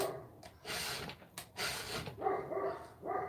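A nearby indoor dog whimpers, snorts and gives short barks in a restless, irregular run of sounds lasting a few seconds.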